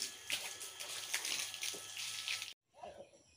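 Water splashes and pours steadily as a girl washes herself outdoors, a close, continuous gushing that cuts off abruptly near the end, followed by a brief softer splash.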